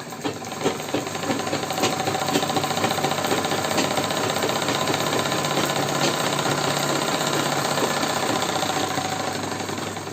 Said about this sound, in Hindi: मशीन को गोल गोल घुमाते हुए सिलाई लगाएंगे